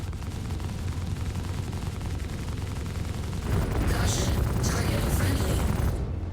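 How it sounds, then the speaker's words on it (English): Sustained gunfire inside a hangar in the game Star Citizen, a dense continuous roar of shots that swells louder partway through, with no talking. "we are shooting inside of the hangar"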